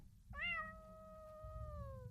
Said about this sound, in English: That is a long meow.